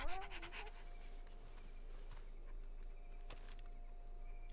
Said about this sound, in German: Ich finde Boomer für einen Hund schon cool eigentlich